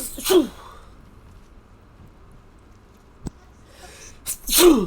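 Two sharp sneezes, one at the very start and another near the end, separated by near silence with a faint click between them, heard in a Baldur's Gate 3 game.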